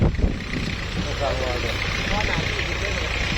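An old farm tractor engine runs a water pump to drain a paddy field for catching fish. It gives a steady, loud, low rumble throughout, with people talking over it.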